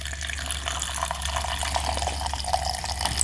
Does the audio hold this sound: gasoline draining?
yes